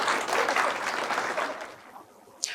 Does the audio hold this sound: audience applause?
yes